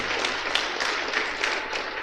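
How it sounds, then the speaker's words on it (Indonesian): Congregation applauding during an Indonesian church sermon: dense, diffuse crowd clapping that holds steady throughout, over a low background hum. "ya boleh beri tepuk tangan untuk Tuhan"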